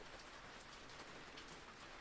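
Soft, steady rain falls evenly and continuously, a gentle wash of drops on surfaces with no voices or other sounds.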